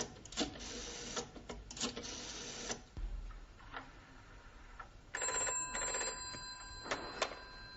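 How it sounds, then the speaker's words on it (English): A telephone is dialed and rings, with faint clicks and rustles in a quiet room, then a steady electronic ringing pattern that begins partway through and repeats in bursts. "I go on phone hospital to see how is Mr. Brown"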